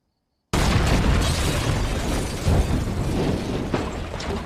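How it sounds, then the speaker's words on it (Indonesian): A sudden, loud explosion hits after a moment of silence, followed by a sustained roaring rumble with crackling debris that barely fades. "Ledakan pun terjadi."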